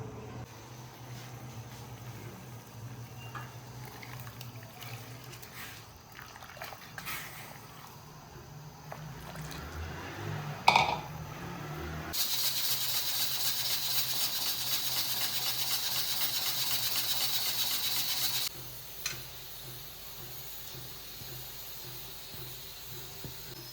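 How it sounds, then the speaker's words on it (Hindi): Rice water coming to a boil in a pot on a low-flame stove, a steady close bubbling hiss that swells loudly for several seconds and then cuts back to quieter kitchen background. "सो यहाँ हो रहा है चावलों का पानी बॉयल"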